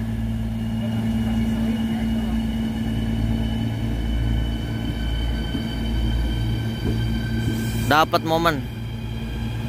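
A train pulled by a locomotive departs Ciawi station, giving a steady low rumble and engine drone throughout, with a horn-like burst near the end and people talking over it.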